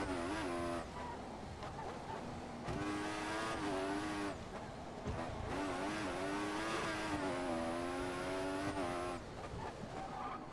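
Formula 1 car from the F1 2014 video game running a lap: a loud, sustained high-pitched engine whine rising and falling through gear shifts and braking, with brief dips between bursts of acceleration.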